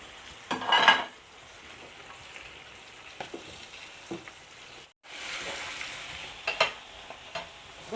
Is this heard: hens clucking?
no